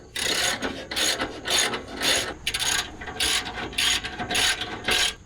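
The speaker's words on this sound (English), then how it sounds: "now we're just gonna tighten it up" A ratchet tightens a bracket during an exhaust replacement, giving loud, close bursts of rapid pawl clicking in a steady back-and-forth rhythm of about ten strokes, with no voices.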